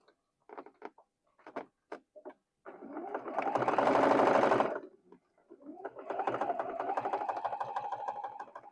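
A sewing machine stitches fabric pieces together, starting with a few short separate bursts, then running in two longer steady stretches with a brief pause between them, close and clear.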